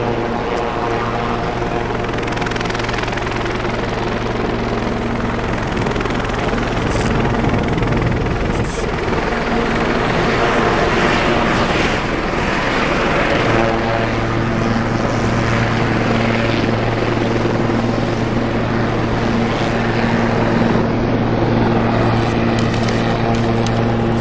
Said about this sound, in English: Terrible way to fly in the sky. Very inefficient, helicopters.